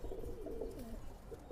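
A Pakistani breeding pigeon, part of a male and female pair, gives a single soft, low coo, faint and somewhat distant against a noisy background.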